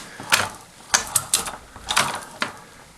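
Lee Pro 1000 progressive reloading press cycled after adjustment: several sharp metallic clicks and clacks in irregular bursts, close and fairly quiet, with no talk.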